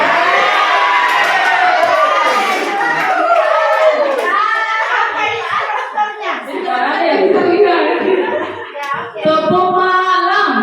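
A group of children claps and chants together in a clap game, rhythmic hand claps mixed with loud voices and chatter in a classroom setting.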